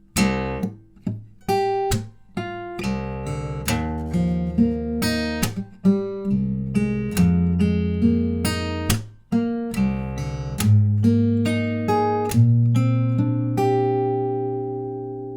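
A plucked acoustic guitar plays the quick, rhythmic main riff of a song, with sharp percussive thumb slaps punctuating the picked notes throughout.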